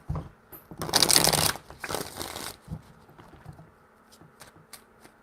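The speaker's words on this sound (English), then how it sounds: "Three shuffles." Tarot cards shuffled in three bursts, a loud riffling rush early on tapering into softer, scattered card slaps and taps, close and with no talking.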